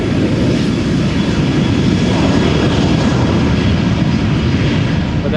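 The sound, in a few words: Boeing 737-700 taking off at Amsterdam Schiphol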